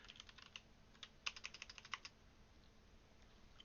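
A short burst of keystrokes on a computer keyboard while setting up Peppermint OS: quiet, close clicks in a quick irregular run, then the typing fades to faint isolated taps over a low background hiss.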